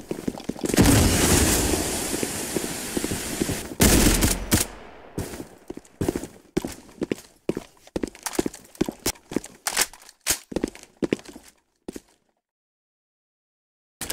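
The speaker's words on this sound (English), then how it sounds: "Opening fire!" Gunfire in Counter Blox: a dense, loud burst of rapid shots, then a run of separate sharp cracks and bangs spaced irregularly before the shooting stops and falls silent.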